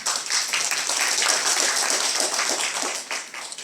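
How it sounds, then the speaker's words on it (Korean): Audience applause at a lecture in Korea, a dense, steady wash of many hands clapping at close range that holds for several seconds and fades slightly at the end, with no voices over it. "박수 한번 치십시오"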